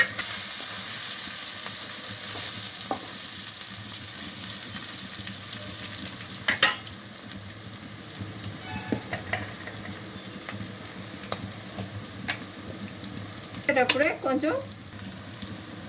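Fish eggs frying in oil with curry leaves, a steady close sizzle and hiss under occasional scraping stirs and clinks, with a brief burst of louder spattering near the end.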